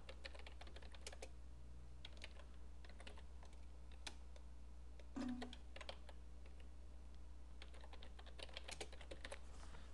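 Very quiet computer keyboard typing on a desk, scattered clicks in small bursts with a few pauses over a low steady hum, heard alone without talk.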